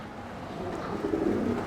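Soft, low pigeon cooing builds up over a quiet background, a throaty murmur growing slightly louder toward the end.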